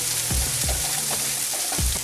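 Potatoes, carrots and onions fry in a pan with a constant, close, dense sizzle and a few soft thumps from the vegetables settling.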